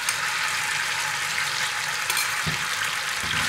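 Marinated pork slices stir-fry in strained oil for garlic-pepper pork, giving a steady loud sizzle with a few soft scrapes of stirring, close and uninterrupted.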